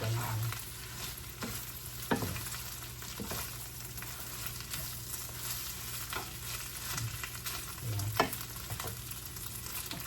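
Chicken pastil filling, sweetened with sugar, fries and crackles in a pan as it is stirred, a steady sizzle with occasional scrapes and knocks of the utensil, heard alone without talk.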